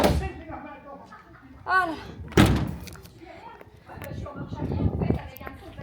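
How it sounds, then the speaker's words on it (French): The rear doors of an emptied moving truck slam shut with a heavy metallic thud, followed by a lighter knock, as someone talks nearby and footsteps shuffle around the vehicle. "Je vais refermer les portes."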